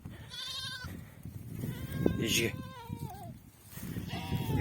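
Sheep bleat repeatedly at close range, a few drawn-out wavering calls, with a brief spoken word and outdoor rustling between them.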